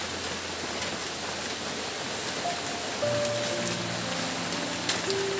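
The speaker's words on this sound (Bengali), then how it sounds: "এ বৃষ্টি এখন থামবে বলে আর মনে হচ্ছে না চলতেই থাকবে" Heavy monsoon rain falls in a steady, dense roar of droplets that stays constant throughout, with a faint tonal hum from somewhere in the distance.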